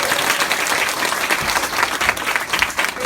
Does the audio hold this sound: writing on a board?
no